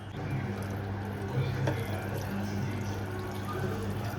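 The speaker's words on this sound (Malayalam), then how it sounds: "ചൂടുവെള്ളമാണ് ഒഴിക്കുന്നത്." Hot water poured into a pan of liver curry with coconut pieces, a steady close rushing pour running throughout.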